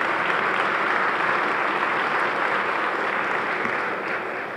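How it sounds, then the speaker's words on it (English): An audience applauds at Jersey City's State of the City address, a dense, even wash of clapping that holds steady for several seconds before easing slightly at the end. "And that's something to applause at."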